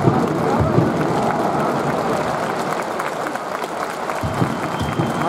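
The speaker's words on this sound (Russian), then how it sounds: "Аплодирую Талвичу, болельщики." Football fans in a stadium applaud a substituted player during a Krylia Sovetov versus Dynamo match, a broad wash of crowd clapping and noise that stays steady throughout, with faint voices mixed in.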